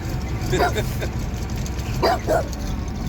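Duke, a dog, gives two short bursts of barking close by over a steady engine rumble outdoors, with people talking around him.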